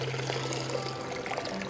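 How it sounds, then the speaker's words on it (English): Water drains out of an inverted sprouting jar fitted with a sprouting lid, a short, close, steady pouring trickle with no speech. "I place the sprouting lid on, and then I simply drain the water off by inverting the jar"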